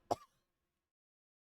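One short, close throat clear, a single brief rasp followed by near silence.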